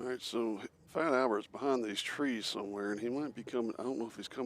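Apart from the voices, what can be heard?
No everyday noise stands out behind the speech.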